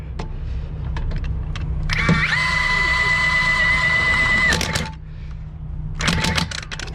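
An Ingersoll Rand W96 cordless 1-inch impact gun tightening, one sustained whirring, hammering burst of about two seconds followed by a shorter rattle, loud and close over a steady background hum.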